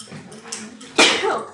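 A single sharp, loud sneeze bursts out in a classroom, preceded by a few soft, breathy sounds.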